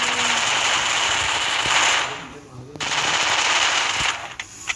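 Rapid automatic gunfire in a ranked Counter-Strike match: dense, sustained bursts of shots with a short lull and then renewed firing ending in a few sharp single cracks, close and loud.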